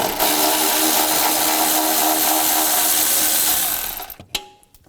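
A power tool with a 10mm socket whirs steadily close up, backing out battery tray support bolts on a 1999-2006 Chevrolet Silverado 1500, then cuts off and gives way to a few light metallic clinks.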